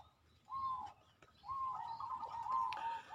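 A white zebra dove (perkutut) in a breeder's cage gives a faint tonal coo, a short note followed by a longer drawn phrase, with quiet background and no speech.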